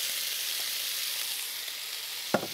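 Shrimp fry in a hot pan for a ragout-style gumbo, giving a steady bright sizzle throughout with a short clink or stir near the end.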